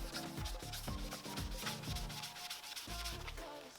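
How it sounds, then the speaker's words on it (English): A Mr. Clean magic eraser scrubs the soles of faded, yellowed white shoes with Tri-Clean, giving close, rhythmic back-and-forth rubbing strokes in quick repeated bursts. "We're going to go ahead and scrub the soles."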